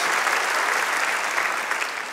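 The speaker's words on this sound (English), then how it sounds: "One more time, though, put your hands together for your church family." A church congregation claps for its church family: a brief, steady wash of dense applause at moderate loudness, with no voices over it.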